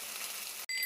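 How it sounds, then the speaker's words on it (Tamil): Rice hitting hot oil in a pan for fried rice gives a steady, close sizzle and crackle, broken by one short dropout near the end before the frying noise resumes. "பாருங்கள், ரைஸ் போட்டிருக்கேன்."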